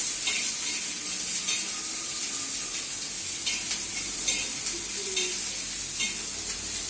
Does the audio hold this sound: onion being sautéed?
yes